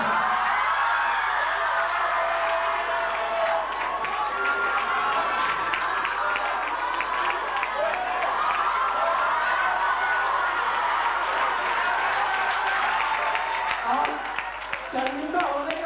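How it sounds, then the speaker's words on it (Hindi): An audience at a debate claps loudly, a sustained wash of applause that runs the full length, with a voice speaking over it throughout. "इतने जोर जोर से तालियां बजा रहे हो"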